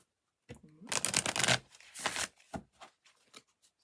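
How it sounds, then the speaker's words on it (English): Tarot cards are shuffled by hand in a quiet room, a run of dense papery riffles and flutters that rises, fades and returns in several short bursts, close and fairly loud. "Sorry if the shuffling is loud."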